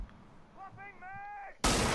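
Gunfire from Rainbow Six Siege: a burst of loud broadband shots erupts at the end of the clip, after a stretch of quieter game sound and a tonal chime-like effect.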